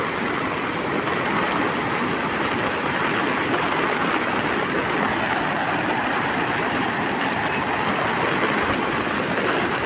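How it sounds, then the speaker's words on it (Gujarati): Heavy rain pours down in Gir during a downpour of several inches, a dense, steady hiss of falling water with flowing runoff beneath it, loud and unbroken throughout with no voices. "હજી વરસાદ ચાલુ જ છે આજનો."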